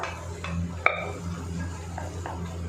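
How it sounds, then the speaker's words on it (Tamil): Mashed potato and green peas stirred into masala in a pan for masala puri, with soft scraping and one sharp metallic clink of the spoon against the pan over a low background hum. "நல்லா இந்த மசாலாவோட இதை கலந்து விட்டுருங்க"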